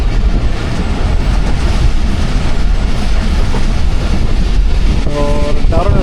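The 47 Up Rehman Baba Express runs through Darul Ehsan station with a continuous loud rumble and rattle of rolling wagons, and a short horn-like tone near the end.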